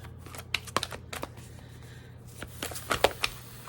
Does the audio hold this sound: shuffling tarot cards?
yes